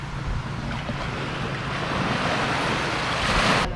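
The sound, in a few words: ocean waves on a beach in Bayawan, Philippines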